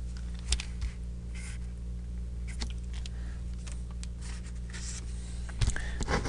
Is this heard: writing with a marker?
yes